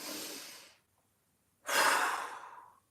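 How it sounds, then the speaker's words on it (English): A person takes a deep breath during a mobility stretch, one long breathy inhale or exhale, a pause of silence, then a second, louder and fuller breath, all close and with no talking. "One more big breath."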